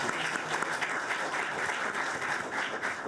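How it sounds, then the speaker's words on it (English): An audience applauds a panel at the close of a policy discussion, steady dense clapping filling the room at an even level throughout with no talk over it. "please join me in a round of applause for the panel"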